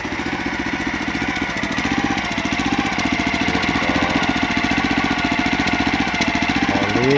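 Engine of a rice transplanter running steadily during evening maintenance, a loud, close, rapid chugging rhythm that stays even throughout with no voices.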